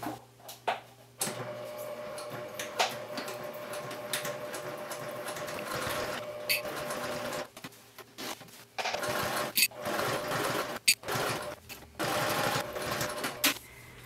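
A sewing machine stitches at 2.5 mm stitch length in several bursts of rapid whirring and clatter, broken by short pauses, close and fairly quiet.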